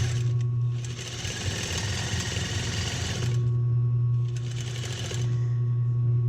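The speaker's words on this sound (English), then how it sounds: "you're just going to sew it down with a straight stitch. You don't need anything but a home machine and a straight stitch" A home sewing machine runs a straight stitch in two steady, loud whirring stretches separated by a short pause, close up with no voices.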